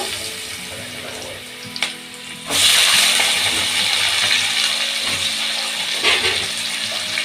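Whole cumin seeds and potatoes hitting hot oil in a Bengali cabbage dish, a broad steady sizzle that jumps louder around the two-and-a-half second mark and keeps hissing evenly, with a couple of faint clinks along the way.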